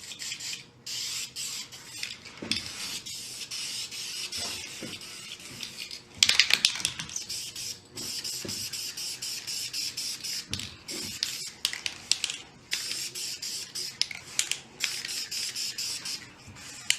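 Krylon matte clear finish sprayed from an aerosol can in repeated hissing bursts, close and steady with brief pauses and clicks of the nozzle between passes.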